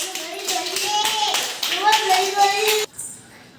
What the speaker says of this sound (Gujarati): ચાલો પ્રિયાંશી માટે તાળી